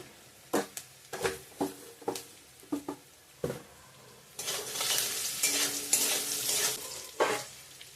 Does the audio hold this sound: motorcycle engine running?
no